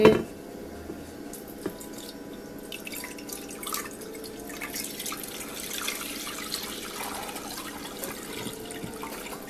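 Liquid Jell-O being poured into a rectangular dish while baking for Thanksgiving, a soft continuous trickle and drip with light splashes, close and fairly quiet, with no talking.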